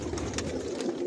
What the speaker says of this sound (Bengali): আর এগুলো সব বিদেশি কবুতর